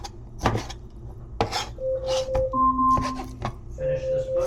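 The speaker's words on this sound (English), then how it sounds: "The shrimp, I'm gonna just cut them to small pieces." A knife chops shrimp into small pieces on a cutting board in a home kitchen, giving a handful of sharp, irregular knocks, with electronic beeps and a person talking in between.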